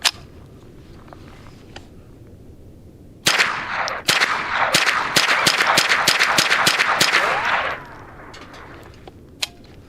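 An Adler RF224 rifle firing about ten rounds of CCI Mini-Mag ammunition in a rapid, evenly spaced string of loud, sharp cracks, close by, with a few quieter knocks before and after.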